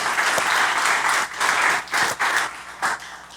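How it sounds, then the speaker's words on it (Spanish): A church congregation applauds in a dense burst of clapping that fades in and out over a few seconds, with several short dips before swelling again. "denle un aplauso al Señor"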